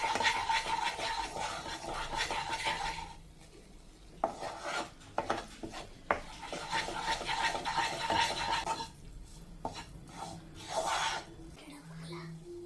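A spoon stirring flour into melted butter in a pan while cooking a creamy white-sauce cheese pasta, giving steady scraping and rasping with a faint sizzle, broken by a few sharp knocks of the utensil against the pan.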